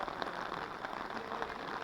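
Heavy monsoon rain pours steadily at the Chhatrapati Shivaji Maharaj gate of Sajjangad fort near Satara, a dense, continuous hiss of drops on surfaces close by, with no voices over it.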